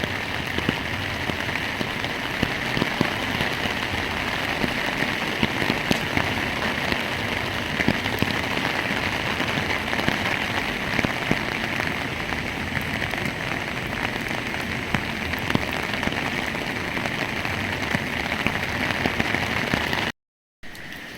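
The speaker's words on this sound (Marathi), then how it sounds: "खूप जोरदार आणि मुसळधार असा पाऊस आहे" Steady, dense monsoon rain in Nashik pours down heavily and continuously, a loud hiss of drops on surfaces with no voices, cutting out briefly near the end.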